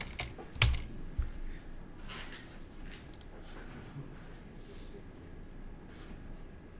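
Keyboard typing at a computer, a few sharp clicks early on followed by faint, steady tapping under quiet room hiss.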